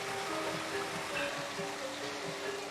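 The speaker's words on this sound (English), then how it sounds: "Flowing from the ground, the sacred springs of Tirtha and Pool are considered the most holy water on Bali." Sacred spring water welling up from the ground at a holy pool in Bali, a faint, steady, low flowing and gurgling wash with no break.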